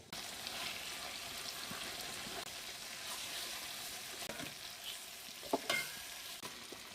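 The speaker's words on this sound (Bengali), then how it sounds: "আমি এইভাবে বাকি সবগুলো চিকেন ফ্রাই করে নিচ্ছি।" Chicken pieces for biryani fry steadily in hot oil over high heat, a continuous close sizzle with occasional stirring scrapes and a couple of sharper clatters near the end.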